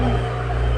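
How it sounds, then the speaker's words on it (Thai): A tractor ploughing into soil on a farm gives off a steady, loud, low engine rumble with a constant droning hum, close and unbroken for a brief moment. "ลงดินค่ะ รถไถลงดิน"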